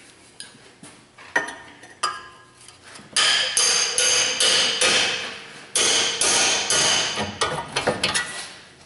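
Metal hammer blows drive an axle through the lower ball joint of a Dodge Grand Caravan, sharp ringing clanks that come sparse at first, then settle into a steady rapid series of close, loud strikes.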